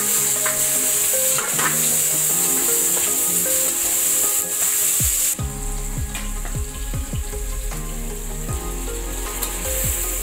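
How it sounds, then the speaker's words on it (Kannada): Onions fry until browned for Hyderabadi mutton biryani, a loud, dense sizzle running throughout, with a spoon scraping and stirring in quick repeated strokes partway through. "ಈರುಳ್ಳಿಯನ್ನು ಚೆನ್ನಾಗಿ ಕೆಂಪಾಗಿ ಹುರಿದು"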